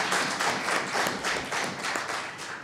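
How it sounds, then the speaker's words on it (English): An audience at a political talk on anti-racism and the labour movement breaks into applause, a loud, full burst of clapping that swells in rhythmic waves without any voices over it. "I think that does deserve a round of applause."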